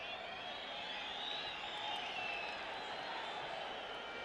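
A stadium crowd at a Bonaire vs El Salvador football match rumbles as a steady, fairly faint wash of murmuring noise with no distinct cheers.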